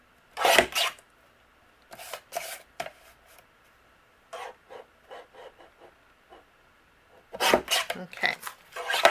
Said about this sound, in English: I'm going to trim down a piece to put behind